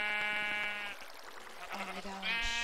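Sheep bleating in Minecraft, two drawn-out wavering bleats separated by a short gap, loud and close, with no talk over them.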